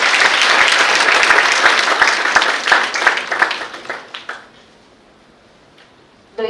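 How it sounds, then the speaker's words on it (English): Applause from an audience at a medical college and hospital event for International Women's Day, dense and loud at first, then thinning into scattered claps before fading to quiet, with a brief voice at the very end. "A huge round of applause for all of you"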